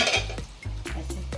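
Dahi bhalle being dropped into a pot make a few soft clinks and knocks of utensils against the pot, close by and brief, with no voices.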